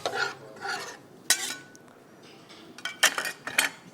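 A spoon scrapes and clinks against a pot while beef with turnips is stirred and roasted, a few separate scraping strokes and metallic knocks close by with quiet gaps between.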